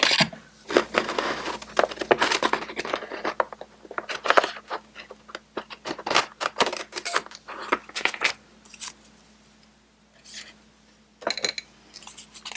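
Scissors cut paper for Bible journaling in a quiet room: a close series of crisp snips and rustles with irregular rhythm, pausing briefly before a few final cuts.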